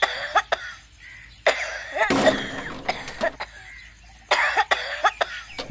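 A child coughs repeatedly in short harsh bursts, several sharp hacking coughs in clusters with brief pauses and a raspy throaty stretch in between, close and loud.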